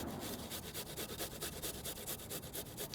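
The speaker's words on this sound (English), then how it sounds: "I'm gonna run these through the same grater that I'm using for our Parmesan cheese, just to break these down nice and fine right away." Garlic cloves scrape rapidly across the fine side of a box grater, a fast, even run of rasping strokes close up with no talking.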